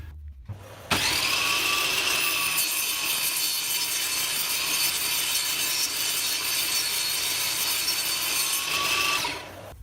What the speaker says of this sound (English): we're just going to run the board through the saw and take off the tongue.